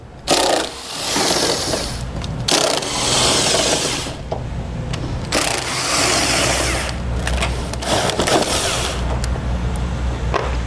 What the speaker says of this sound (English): we're gonna use a 15mm socket and remove the two nuts here on either side of our strut tower brace